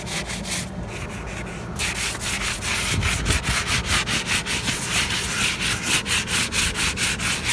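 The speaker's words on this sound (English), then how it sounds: "I'm sanding it right now." Hand sanding of a painted wooden couch frame being prepared for chalk paint, a steady scratchy rubbing in repeated back-and-forth strokes, close and fairly loud, with no talking.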